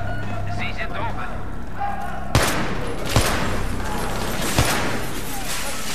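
Gunfire in Battlefield 3 with an F2000 rifle: several sharp shots stand out over continuous background battle noise, while someone talks in German before the shots start.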